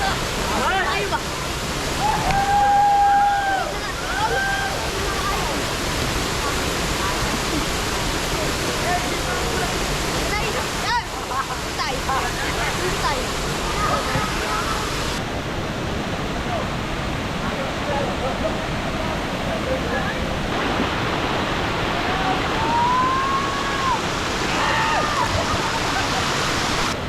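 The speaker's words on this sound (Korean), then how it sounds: "여기는 2단계 폭포입니다." A steady, loud roar of a two-tier waterfall in Siquijor, Philippines, fills the whole stretch, dense and unbroken, with faint voices barely surfacing above it.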